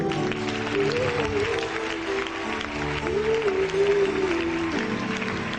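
A church congregation applauds steadily, dense clapping mixed with a held sung or shouted voice riding over the crowd.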